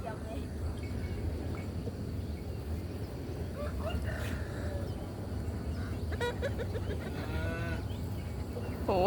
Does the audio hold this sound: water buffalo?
yes